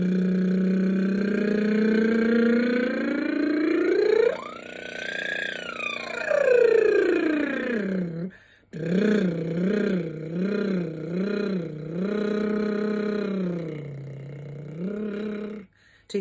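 A singing warm-up in which a voice imitates a revving motorbike, a buzzy lip-trill drone that sweeps up into a high rev and falls back, then after a short breath pulses in rapid rhythmic revs until running out of air.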